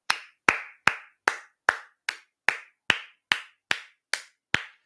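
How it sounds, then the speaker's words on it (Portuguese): Slow, steady hand clapping for the footballer Chiron, about a dozen distinct, evenly spaced claps from a single nearby person, sharp and dry with no talking in between. "Palmas pro Chiron"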